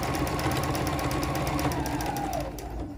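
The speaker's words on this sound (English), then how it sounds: "I'm gonna go ahead and sew." A sewing machine stitching fabric squares with a 1/4 inch presser foot, a steady, close, rapid mechanical whir and needle rattle running unbroken throughout, easing slightly near the end.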